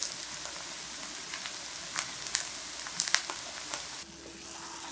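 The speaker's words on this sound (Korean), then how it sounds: "앞뒤로 노릇하게 색을 입히고 지글지글 바삭하게 구워 고소한 풍미를 끌어올려줍니다." A thin potato and chive pancake sizzles and crackles steadily in a hot pan, with scattered sharp pops over a constant frying hiss, close up and without voices.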